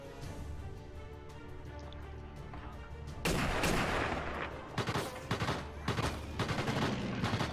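Gunfire and explosions in Sniper Elite VR: faint low rumble at first, then a sudden loud burst followed by repeated sharp shots and blasts, with occasional voice in the background.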